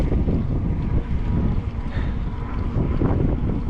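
Steady wind rushing over the microphone while riding a bicycle outdoors, a loud continuous roar with no talking.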